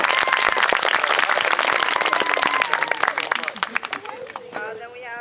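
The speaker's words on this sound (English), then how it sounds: "Please give her a round of applause." An outdoor crowd at a Florida permaculture convergence bursts into loud, dense applause with a few cheers, holding for a few seconds before thinning out into scattered claps and voices.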